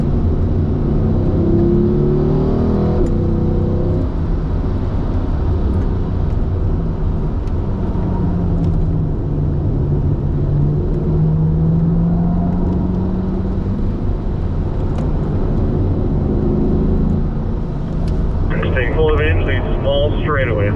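A Corvette accelerating on a race track at a driving school, a steady loud engine drone sustained throughout with a rising pitch sweep, heard from inside the car under an instructor's talk.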